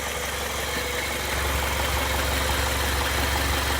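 An International Scout 80 engine idles steadily while warming up, a continuous low rumble with a regular pulsing beat, close and alone, with no talk.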